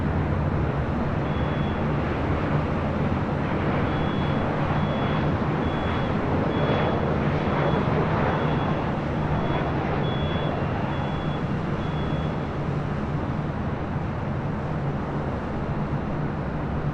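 A Boeing 737-800 landing on runway 24 left at LAX, heard as a loud, steady, broadband jet roar that holds throughout, with faint periodic beeping in the background.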